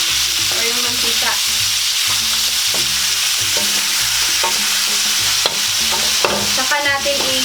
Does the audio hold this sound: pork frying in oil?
yes